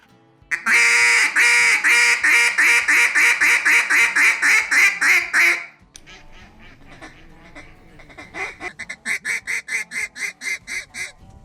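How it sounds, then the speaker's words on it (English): A duck call blows a hail call: a long series of loud, evenly spaced quacking notes, then after a pause a second, softer run of rhythmic quacks. "in order to be able to blow a hail call properly"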